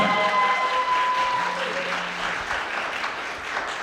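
An audience applauds a YouTuber walking on stage at a Korean flop-film award show. The clapping is loud and steady for the whole stretch, with a few held musical tones under it at the start.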